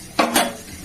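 A metal lid set down over a pot of boiling potatoes and ridge gourd, giving two quick clinks close by in a home kitchen, with no talk.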